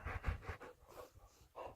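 A dog pants close by in quick, rhythmic bursts of breath, with a brief pause midway before the panting picks up again.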